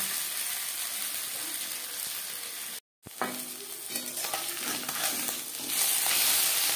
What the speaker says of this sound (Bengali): অল্প অল্প করে দিয়ে মিক্সি করে ভেজে নেব